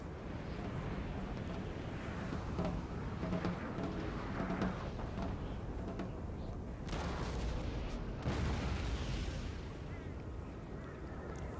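Cannon batteries fire in the Napoleon Total War battle game, dull booms and rumbling blasts layered in a dense continuous battlefield din, with a heavier burst of volleys in the middle stretch.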